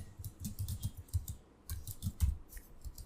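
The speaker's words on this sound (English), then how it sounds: "opening a command prompt and then type netstat" Quick bursts of key clicks on a computer keyboard as a netstat command is typed at a command prompt, in short clustered runs with brief pauses, close and fairly quiet.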